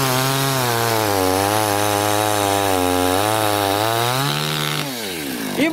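A chainsaw cuts through wood beside a pond, its engine held at a steady, loud, close whine that rises and falls slightly under load, then drops in pitch and revs back up near the end.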